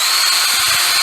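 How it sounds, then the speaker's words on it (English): Power drill boring a small hole into wood while building rabbit hutch doors, a steady high whine with grinding bite, close and loud, brief and continuous. "I'm just going to drill a small hole here"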